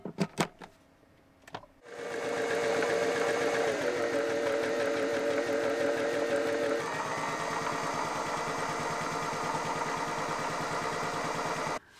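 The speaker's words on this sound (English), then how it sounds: "The return of the sewing machine." A sewing machine runs continuously with a steady mechanical whir that shifts pitch partway through, after a few sharp knocks at the start.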